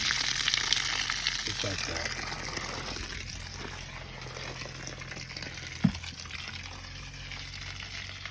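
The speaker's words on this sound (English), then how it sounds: "I'm gonna open up a hose bib, drain it down, get the water out of the system" Water gushing and hissing out of an open hose bib as a pressure system drains, a steady broadband rush running the whole time with a brief speech fragment mixed in.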